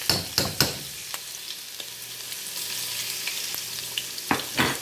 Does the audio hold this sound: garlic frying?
yes